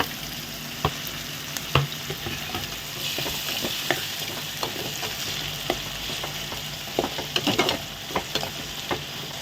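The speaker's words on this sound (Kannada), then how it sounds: "ಇದೆಲ್ಲನೂ ಸ್ವಲ್ಪ ಫ್ರೈ ಆಗಲಿ" Tomato masala sizzles steadily in a pan while bitter gourd fry is being made, with a continuous frying hiss and scattered sharp crackles and spatula scrapes from stirring, close and fairly loud throughout.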